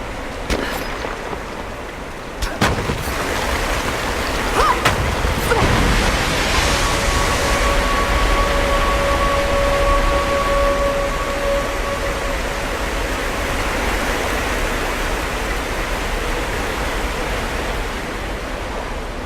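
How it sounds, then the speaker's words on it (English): Water leaking from a wall in Rise of the Tomb Raider, a steady rushing, hissing flow like a small waterfall, loud and continuous throughout, with a few sharp clicks early on and a faint tone in the middle. "Looks like there's a wall there that's leaking some water."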